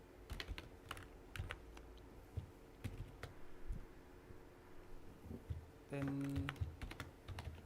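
Code is typed on a computer keyboard in quick, close, irregular clicking bursts, with someone speaking softly over part of it.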